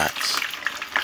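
Thick-cut fries frying in hot oil for poutine, a dense, close crackling sizzle with bursts of bubbling pops across a brief moment.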